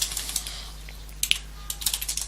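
Quick typing on a computer keyboard while entering Linux terminal commands: a steady run of light plastic key clicks, a short pause, then another burst of rapid taps, close and clear with no talking.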